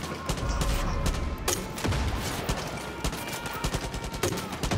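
Dense gunfire from Far Cry 5 rattles on for the whole stretch, rapid overlapping shots forming a loud, continuous fusillade with a few sharper cracks punching through.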